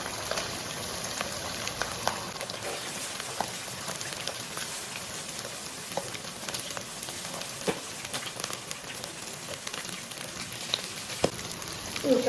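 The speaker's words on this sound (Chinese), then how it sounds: "油烧热以后，快速的下入鸡块，" Batter-coated chicken pieces fry in hot oil in a wok, giving a steady, close crackling sizzle with scattered sharp pops and no talking.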